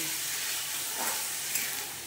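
Water from rinsing the grinding stone hits poppy seeds frying in a pan for karela posto, raising a steady, dense sizzle and hiss that holds close and even throughout, with no voices.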